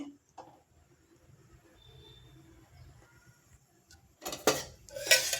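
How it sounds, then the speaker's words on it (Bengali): A metal wok is set down on a gas stove in a home kitchen, giving a loud clatter of cookware near the end after a few seconds of quiet background. "কড়াই বসিয়ে দিচ্ছি।"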